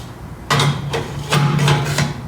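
A manual textile screen printing press being spun to its next station, giving loud, close, repeated thuds and clunks with a low metallic hum underneath, several knocks spaced under a second apart.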